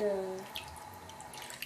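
Water runs from a tap over Lego bricks being rinsed of rubbing alcohol, a soft, steady splash with light drips, following a brief tonal squeak at the start.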